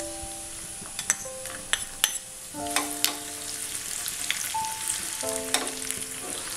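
Raisins fry in hot ghee, with coconut and cashews, for a lentil payasam, sizzling softly under sharp metallic clinks and scrapes of a spoon stirring the pan, several distinct taps scattered through the clip.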